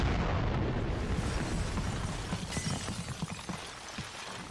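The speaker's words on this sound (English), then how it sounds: "The stricken mine then detonates." Goliath tracked demolition mine detonating in a war film battle scene: a loud, broad explosive roar that rumbles and crackles, then decays into scattered debris and low rumbling over several seconds.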